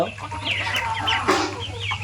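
Tiger chickens on a poultry farm cluck in a busy, overlapping chorus of short calls, with a steady low hum running underneath and no speech.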